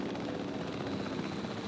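A helicopter in the Jurassic World Evolution 3 video game gives off a steady, loud rotor drone and engine roar that runs unbroken through the whole stretch.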